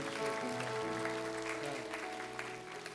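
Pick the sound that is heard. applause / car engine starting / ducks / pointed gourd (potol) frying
applause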